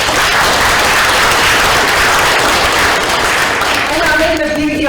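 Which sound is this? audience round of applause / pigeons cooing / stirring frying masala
audience round of applause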